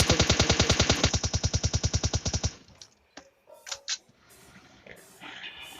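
Rapid automatic gunfire in the video game PUBG Lite, a loud steady burst of about twenty evenly spaced shots over a couple of seconds, then cut off and followed by quieter scattered clicks and faint game noises.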